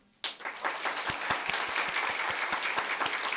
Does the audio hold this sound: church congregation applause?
yes